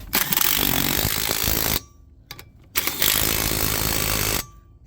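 Pneumatic impact gun tightening wheel lug nuts on a 2020 Mercedes Sprinter 2500 van, two loud close bursts of rapid rattling hammering, each about two seconds, separated by a brief quiet gap with light clicks.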